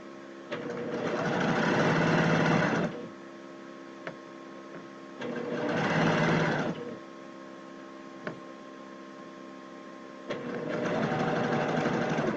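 Sewing machine stitching a 3/8 inch seam allowance on a shirt in three separate bursts of whirring hum, with quiet pauses and small clicks between runs.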